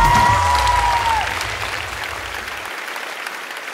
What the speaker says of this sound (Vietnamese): Thưa quý vị, một tràng pháo tay nồng nhiệt.